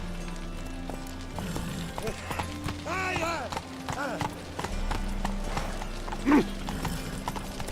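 Roach, the horse from The Witcher 3, runs with continuous clip-clop hoofbeats under game dialogue and background music, a voice talking over the rhythm and a sharper hit near the end.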